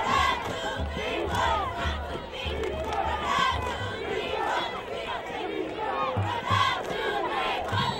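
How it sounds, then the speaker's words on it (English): A high school football crowd at an Irvington versus Linden game chants "defense" in a steady, rhythmic roar of many voices, loud and continuous throughout. "Chant of defense from the crowd."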